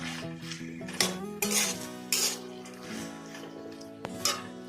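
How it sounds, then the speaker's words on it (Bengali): Mustard-poppy seed paste is stirred into taro stolons frying in a pan. A utensil scrapes and clinks against the metal pan several times in an irregular rhythm over a faint sizzle, and the sound is close and fairly quiet. "আমি এখানে দেব 1 চামচ সর্ষে পোস্ত বাটা। এটা কিন্তু অপশনাল, আপনারা দিতেও পারেন।"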